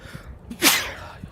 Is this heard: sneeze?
yes